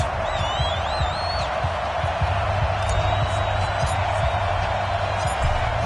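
Home crowd cheering in an American football video game, Dolphins hosting the Cowboys: a steady, loud wash of stadium crowd noise with whistle-like tones, filling the whole stretch under commentary.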